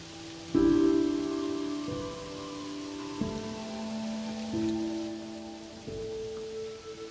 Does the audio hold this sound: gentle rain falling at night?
yes